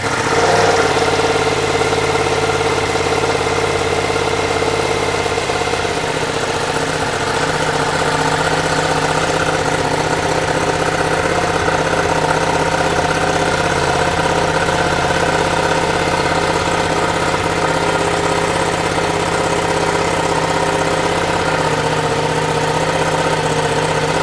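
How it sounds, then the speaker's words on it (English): A 2022 Ducati Multistrada V4S motorcycle fitted with a slip-on muffler idles steadily close by, its engine giving a continuous, even rumble with a slight rise in intensity partway through and no speech. "the bike is coming to life"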